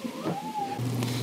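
A cat meows once, a drawn-out rising and falling call, heard fairly close over a faint room hum.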